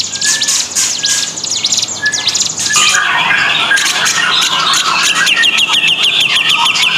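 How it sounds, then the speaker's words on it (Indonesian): A mountain prinia (Ciblek Gunung) sings close and loud, pouring out rapid, repeated high chirps and trills that continue without a break. "Dari burung Ciblek Gunung."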